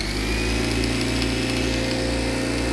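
An air compressor converted into a vacuum pump runs with a loud, steady motor drone and rapid mechanical pulsing, unbroken throughout with no talk.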